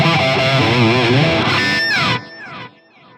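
An electric guitar sounds through a delay effect switched on from a MIDI Maestro footswitch controller. Sustained, distorted notes ring loudly, then cut out and leave fainter repeating echoes that fade away.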